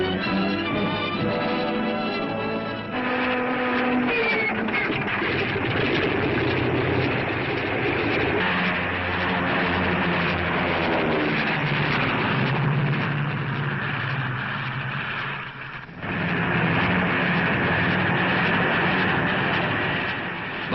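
Second World War fighter planes bouncing down an improvised metal runway on their way to strike a fortified Italian city, heard as a continuous, loud engine roar with rumbling and tonal layers on an old, muffled recording.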